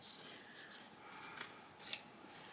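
Scissors snip off excess fabric while sewing a sweater project bag, four short crisp cutting bursts spaced through a quiet room, close and fairly soft with no talking.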